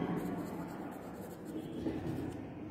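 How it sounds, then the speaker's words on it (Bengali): A pen writes a number out in words on paper, making a faint, continuous scratching against steady background noise. "এখন আমি যদি কথাই লিখি, তাহলে কী হবে"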